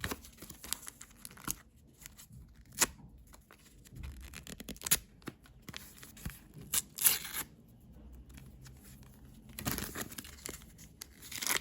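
A comic book package is torn open up close: quiet, irregular bursts of ripping and crinkling plastic and paper, with short pauses between pulls and no talking.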